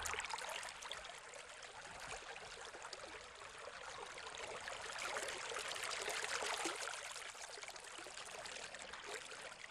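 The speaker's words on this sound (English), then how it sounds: "The flow of water fills the penstock, providing the 22-foot head of pressure needed to operate the mill." Water flowing through a wooden flume into a mill penstock, a soft, steady rushing and trickling stream that runs continuously without pause and without voices.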